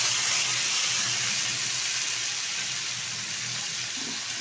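Onion paste goes into hot oil with fried spices for shahi paneer, giving a steady, even hiss of sizzling that holds at a constant level for the whole few seconds with no talk.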